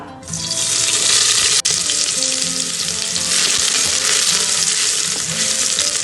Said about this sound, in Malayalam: ഞാനിതാ ഉള്ളി വാട്ടാൻ വേണ്ടിയിട്ട് എണ്ണ ഒഴിക്കുന്ന